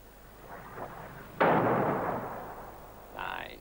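An artillery gun fires a single heavy shot in a 1957 war film, a sharp loud boom that rolls off slowly over a couple of seconds, followed by a brief faint tonal sound near the end.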